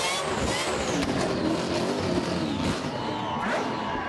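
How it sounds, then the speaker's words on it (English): A burnout car revs hard at Perth Motorplex during a Summernats Burnout Masters round, its loud, continuous engine roar blending with tyre noise and crowd din, steady for several seconds. "Listen to the revs."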